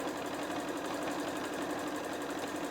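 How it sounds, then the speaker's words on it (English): A sewing machine stitches along a fabric seam while sewing a fat quarter book cover, producing a soft, steady mechanical whir with a rapid even pulse, quiet and continuous. "now sewing along the rest of that seam"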